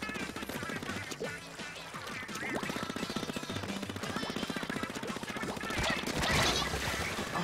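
Rapid bursts of Splatoon gunfire mixed with other game sounds and a voice talking throughout.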